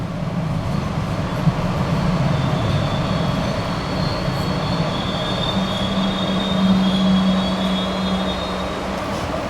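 Passenger train rolling along the rails between Leominster and Fitchburg, heard from on board as a steady loud rumble with wheel squeal rising near the end; no talking.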